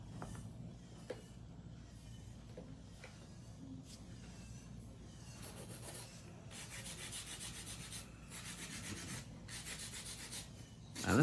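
Nail filing at a salon: a hand file rasps steadily in continuous back-and-forth strokes, close and moderately loud, with no talking over it.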